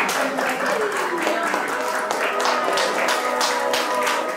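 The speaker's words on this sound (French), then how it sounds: "Mesdames et messieurs, est-ce qu'on peut les applaudir très fort déjà avant de commencer?" Wedding guests give the newlyweds a sustained round of applause, a dense steady patter of clapping that fills the room for the whole stretch with a murmur of voices underneath.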